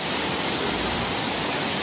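A waterfall at Roaring River, Jamaica, roars as a dense, steady, broadband rush of falling water, close and continuous with no voices.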